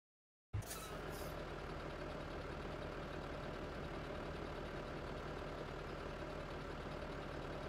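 A New Holland tractor engine idles steadily in a farming video game, a constant low rumble that starts abruptly and holds at an even level, close and alone.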